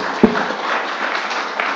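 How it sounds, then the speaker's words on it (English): An audience at a university campus event applauds in a dense, even wash of clapping that holds steady, with one sharp louder knock near the start. "Let's give a big round of applause"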